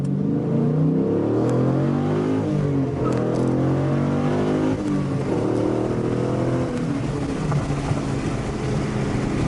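A 2016 Dodge Challenger 392 Hemi Scat Pack engine revving hard and accelerating, a loud steady roar with shifting pitch that stays strong throughout.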